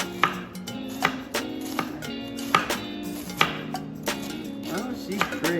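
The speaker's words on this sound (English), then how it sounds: "I'm going to cut the core out of this cabbage head and then get it chopped up" A knife chops through a cabbage head on a cutting board, with sharp, evenly spaced strikes repeating steadily and close up, with no voices.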